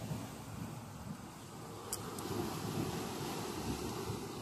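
Water running out of an outlet, a continuous broadband rush and gurgle that stays steady and fairly loud throughout, with no voices.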